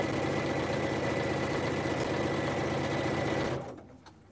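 A sewing machine stitching a pillowcase hums in a steady, fast mechanical whir, close and constant for about three and a half seconds before slowing and stopping.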